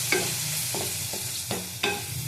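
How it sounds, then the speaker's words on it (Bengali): A spoon scrapes and stirs Kashmiri chili powder frying in a pan. Steady sizzling sits under four or five distinct scraping strokes, with no voices. "ভালো করে ঘেটে নেব, কষিয়ে নেব"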